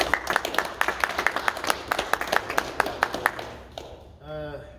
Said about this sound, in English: So anyways, just a round of applause for you.